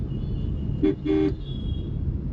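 A car horn in Hyderabad traffic gives two short toots, the second slightly longer, over a steady low hum of the car interior and road.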